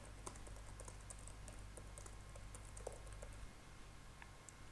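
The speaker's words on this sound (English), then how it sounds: "And now we can type our name." Quiet, rapid clicking of keys on a computer keyboard, scattered taps in short bursts over a low steady hum, with no talking.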